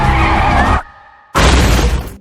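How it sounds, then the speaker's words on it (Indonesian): A car chase in a film ends in a crash: a loud burst of skidding and impact breaks off briefly, then a second loud crunch of shattering glass and metal follows. "Hingga akhirnya kedua belah pihak tak bisa menghindari kecelakaan."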